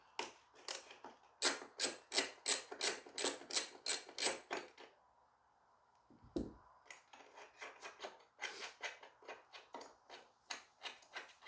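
A deep socket on a ratchet loosens a 10mm screw on a second-generation Scion xB, producing a run of sharp, rhythmic clicks, then a brief scrape and a softer, quicker series of ratcheting ticks, close and alone.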